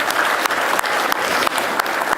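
Loud, close applause from an awards-event audience, a continuous dense clapping of many hands with a few louder individual claps popping out over about two seconds.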